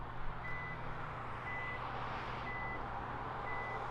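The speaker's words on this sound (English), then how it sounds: "So it does about 4 beeps before it does open." Four evenly spaced electronic power liftgate warning beeps from a 2019 Kia Stinger GT RWD, steady and moderately loud, over a low idling engine hum.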